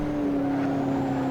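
Nissan GT-R V6 engine in the Assetto Corsa racing game, a steady sustained drone holding one pitch, loud and close with no talking.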